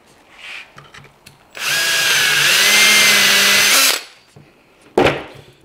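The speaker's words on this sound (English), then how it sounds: "This drill bit matches the pin that's on the rig." A power drill with a 1/4 inch bit whirs loudly for a couple of seconds in a woodturning workshop, its pitch rising and holding, with a few faint clicks and a short burst after it stops.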